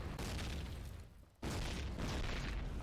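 A grenade goes off in the Call of Duty video game during a competitive match: broadband booming bursts, a loud blast at the start, then a brief dip before a second heavy explosion rumbles on to the end.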